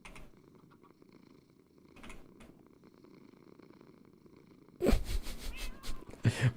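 Butters the cat purring, a soft continuous low rumble near and quiet, followed by a louder burst of rustling and movement noise toward the end.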